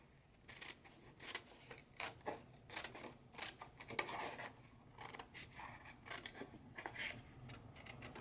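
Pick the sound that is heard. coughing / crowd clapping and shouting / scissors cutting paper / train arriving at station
scissors cutting paper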